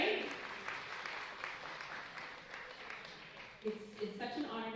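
Steady applause from an audience at an evening talk on steelpan music in Toronto, a broad even patter of many hands lasting throughout, with a few voices rising briefly near the end.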